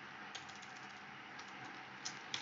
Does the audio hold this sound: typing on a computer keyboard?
yes